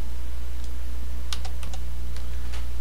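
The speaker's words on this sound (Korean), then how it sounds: "델 키 눌러서 없애고" Computer keys tapped during photo-editing work, a few quick clicks in a small cluster near the middle and a couple more toward the end, faint and close over a steady low electrical hum.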